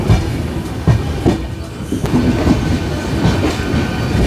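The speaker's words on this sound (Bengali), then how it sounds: "ব্যান্ডেল থেকে ট্রেন ছেড়ে দিয়েছে।" Black Diamond Express superfast train with LHB coaches pulling out of Bandel, heard from on board as a loud, close rumble with rhythmic clickety-clack wheel beats and occasional knocks.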